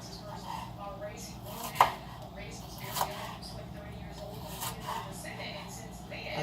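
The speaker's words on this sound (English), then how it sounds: "Quiero enseñarles como yo corto my peppers, the tomatoes, and the onion, how I cut them." Knife cutting peppers on a cutting board for pico de gallo, a few faint scattered thuds and taps, with a person talking quietly over them.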